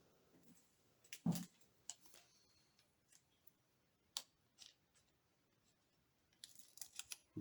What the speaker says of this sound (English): we go in with a pair of scissors.